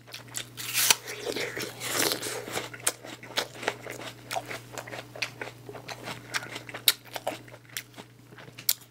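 Someone bites and chews an apple up close, with loud crisp crunches followed by a run of wet, irregular chewing sounds and no talking.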